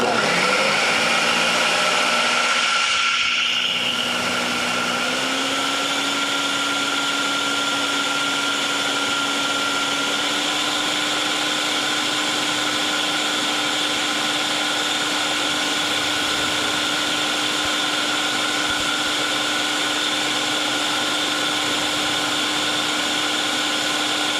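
A kitchen blender purees chocolate mousse, its motor spinning up with a rising whine and then holding a loud, steady, continuous drone after a brief pause at the start.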